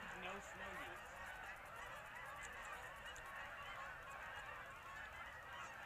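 A large flock of geese, roughly a thousand birds at a waterfowl spot, honks continuously, with a dense chorus of calls held at steady volume throughout, and a few nearer honks stand out early on.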